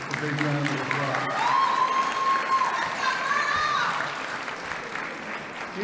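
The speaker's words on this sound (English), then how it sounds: "Let's give Colonel Shepard a big round of applause" A crowd at a high school senior scholarship and award ceremony gives Colonel Shepard a big round of applause, sustained clapping with some cheering and a rising whistle-like tone over it.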